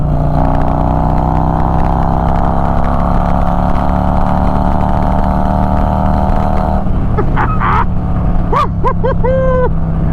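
A Harley-Davidson motorcycle engine drones loudly and close at a steady pitch, then cuts off, followed by a few short chirping sounds.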